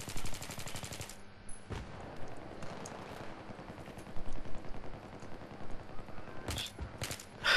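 Gunfire in the Battlefield 3 video game, rapid automatic bursts with sharp single shots scattered through, dense and fairly loud with no talking.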